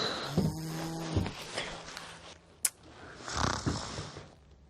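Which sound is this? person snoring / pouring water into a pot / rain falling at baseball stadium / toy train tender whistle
person snoring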